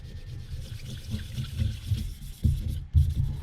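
Wet sanding of boat gel coat with 400 grit sandpaper, a steady low rubbing and swishing of wet paper over the hull, close and continuous with a few heavier strokes near the end.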